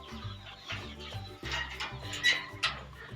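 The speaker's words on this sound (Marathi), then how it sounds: "पोल्ट्रीचे दरवाजे उघडे केल्यानंतर ह्या ज्या कोंबड्या आतमध्ये आहेत तर त्या आता सगळ्या बाहेर पळालेल्या आहेत" Chickens on a poultry farm cluck and squawk in short, uneven bursts after being let out of their coop, close to the listener and fairly loud, with a few sharper calls standing out near the end. No one speaks.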